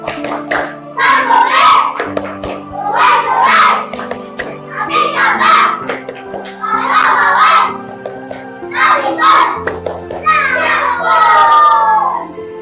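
Young pupils in a classroom chanting the tepuk panggung routine together, with six loud, evenly spaced bursts of rhythmic clapping and shouted words and a continuous tonal hum beneath.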